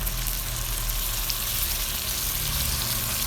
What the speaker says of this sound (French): On va le mettre dans le mélange oignon. On va venir bien le mélanger.